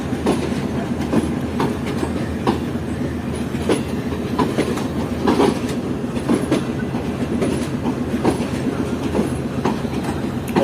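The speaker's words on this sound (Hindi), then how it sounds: "ट्रेन ने पूरे 6 बजे डिपार्ट किया है, यानी कि अपने एक्चुअल टाइम पर डिपार्ट किया कराची कैंट रेलवे स्टेशन से" The Shalimar Express pulls out of Karachi Cantt railway station with a steady clickety-clack of wheels over rail joints and a continuous rolling rumble, close by, with no speech.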